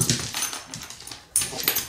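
A puppy whimpers close by, with a string of soft high whines and small yips across the moment and a sharper cry near the end, with no talking over it.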